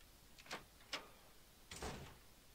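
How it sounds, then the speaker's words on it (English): Door unlocking in the horror game Ao Oni: two quiet metallic clicks, then a softer scraping rattle of the latch, faint against a low hiss. "Unlock the door."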